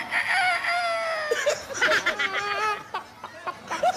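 A rooster crows loudly and close, with clucking chicken sounds played into a phone call on a live variety show, as people chatter and laugh around it.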